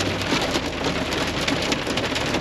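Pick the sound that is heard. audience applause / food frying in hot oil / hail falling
hail falling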